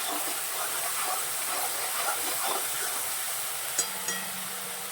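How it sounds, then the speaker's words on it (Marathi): A thick paste roasts in a pan over low gas, giving a steady soft sizzling hiss throughout, alone and without talk, with a couple of faint clicks near the end. "पाहू शकता मस्त अशी खरपूस भाजून घ्यायची आहे लो गॅसवर"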